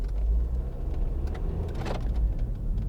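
A 2012 MINI Countryman Cooper SD ALL4 diesel pulling away on leaf-covered road, a steady low engine rumble with a brief rising swell midway, heard from inside the car.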